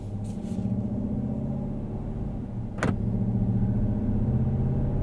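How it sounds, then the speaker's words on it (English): A 2026 Ram 1500 pickup with the 5.7L Hemi V8 in sport mode, rear window open, idles with a deep, steady exhaust rumble, close and even, with a brief sharp click partway through. "let's hear what this Hemi V8 sounds like"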